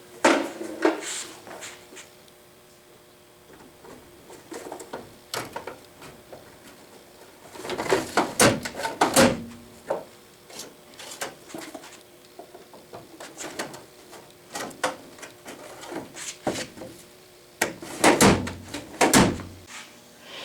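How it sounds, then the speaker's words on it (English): Drawers being fitted into the cabinet base of a South Bend metal shaper, heard as scattered wooden and metal clunks, slides and knocks, some sharp and close, with quiet gaps between them and no talking. "All right, let's get those drawers installed."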